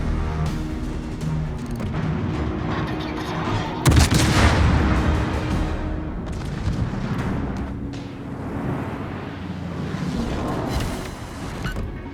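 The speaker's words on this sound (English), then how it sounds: "Some of these, the main battery gun sounds." Main battery guns fire in the naval video game World of Warships, heavy booming blasts with one especially loud shot among low rumbling reports over a steady background roar.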